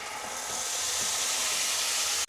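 Ginger garlic paste fries in a pan for fish curry, a steady close, loud sizzle and hiss that holds without a break, with a brief dip near the end.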